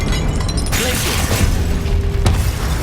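Glacius freezing spell in Hogwarts Legacy, a sudden bright burst followed by rumbling low impacts and a brief crack near the end, over steady combat background.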